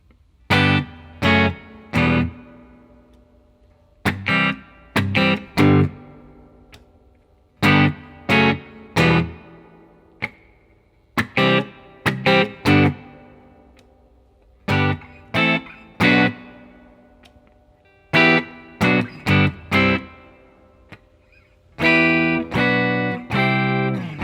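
Distorted electric guitar plays a song's bridge in short chord stabs in grouped bursts, each cut off sharply by muting, ending with a quicker flurry of strummed chords.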